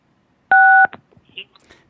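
Telephone keypad tones as star 6 is pressed to unmute a caller dialed in to a public commission meeting: one loud clean dual-tone beep followed by a short click, then faint low background noises.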